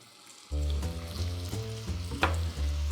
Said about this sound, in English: I'm going to add a little of the apple cider vinegar